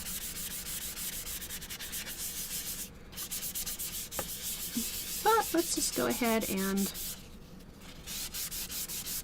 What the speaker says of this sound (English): do some light sanding to knock down those graphite lines.